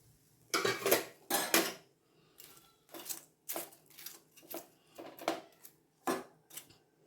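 Green chillies and curry leaves, fried earlier, are added to a pan of fish fry, giving a series of close metallic clinks and scrapes of a spoon against the pan, some sharp bursts and some softer taps, with no talking.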